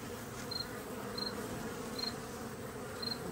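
Honeybees buzzing at a hive entrance outdoors in fall, a soft continuous drone with a few slightly louder passes of individual bees, faint and steady with no voices.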